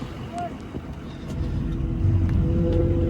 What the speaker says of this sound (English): You ever been inside the tow truck while it winches you up?